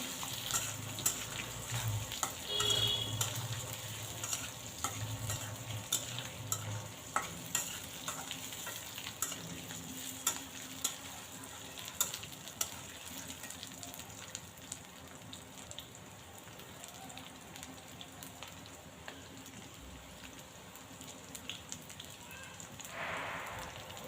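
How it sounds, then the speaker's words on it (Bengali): Potatoes frying with cumin seeds in a pan give a steady sizzle under repeated stirring scrapes, continuous and close, with no one talking. "এখন এই যে জিরা ফোড়ন দিয়ে দিলাম তারপর আলুগুলো দিয়ে দিব তারপর স্বাদ মতো লবণ এবং হলুদ দিয়ে একটু নাড়াচাড়া করবো"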